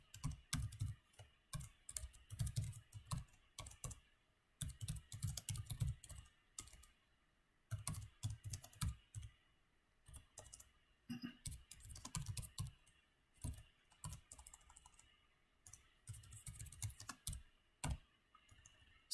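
Someone types a small program on a computer keyboard, with quick, close clattering keystrokes in bursts separated by brief pauses, heard alone and fairly quiet.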